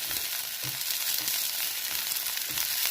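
Long, thin strips of carrot and capsicum fry in a pan with a steady, close sizzling hiss and faint crackles throughout, no voices.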